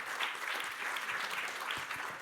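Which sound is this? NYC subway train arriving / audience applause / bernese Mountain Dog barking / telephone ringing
audience applause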